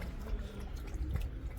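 Water runs and splashes quietly while a dog's feet are scrubbed and washed, a soft, steady trickle with low thumps of handling, close and faint.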